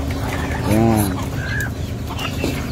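Chickens cluck and call near a farm feeding spot, one drawn-out fowl cry standing out over a busy background of birds and a voice talking.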